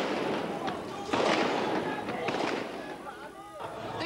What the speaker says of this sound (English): as troop lorries were seen moving down the road, there was gunfire from those lorries